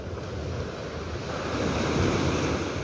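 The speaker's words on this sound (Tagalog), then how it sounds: "Ang lakas kasi ng alon ngayon" Strong ocean waves wash against a beach by a pier under stormy weather, a continuous loud surf roar mixed with wind, swelling slightly louder toward the end.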